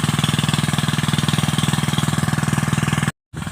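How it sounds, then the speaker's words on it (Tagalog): An engine left running on a corn farm chugs loudly and close by in a fast, even pulsing rhythm, broken by a brief dropout near the end. "yung makina na din yan, iiwan din namin na umaandar"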